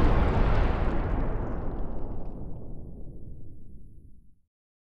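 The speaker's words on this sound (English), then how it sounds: "After the blast" A large blast in a simulated safety-training scenario erupts as one loud, booming explosion right after a countdown, its broad roar holding strong and then fading out over about four seconds.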